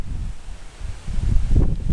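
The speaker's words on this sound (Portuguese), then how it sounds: "Puta ventão vento e frio" Strong cold wind buffets the microphone on the summit of Pico da Tijuca after a climb, a loud rumbling gusty roar that surges toward the end, with no talking.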